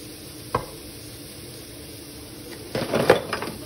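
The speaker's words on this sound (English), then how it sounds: "now it can be the moment to roast some chili powder in there" Chili powder roasting in a hot pan while cooking noodles with chicken and tofu, a quiet sizzle with a brief scrape early on and a burst of stirring and frying crackle near the end.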